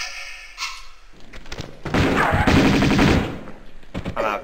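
Uzi fire in Tomb Raider II Remastered comes in bursts of sharp, loud shots at close range, with a thud and some scattered game effects before and after the firing.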